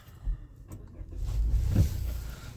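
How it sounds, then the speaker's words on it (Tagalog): Mazda CX-5 GT 2024 SkyActiv engine starting: a brief mechanical whir and crank as it catches, settling into a steady low idle rumble, close and moderately loud. "So, buksan natin ang makina."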